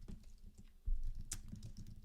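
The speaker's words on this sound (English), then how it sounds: "I'm not going to use my alias so you can understand what I'm typing" Typing on a computer keyboard while coding a web app, a quick run of soft, close keystrokes in an irregular rhythm with one sharper click partway through and no speech.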